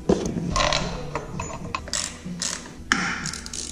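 A ratchet drives bolts into a new flywheel on a Mitsubishi 3000GT VR4, with close, rapid clicking strokes in short repeated bursts.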